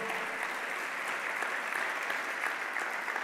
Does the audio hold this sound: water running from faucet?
no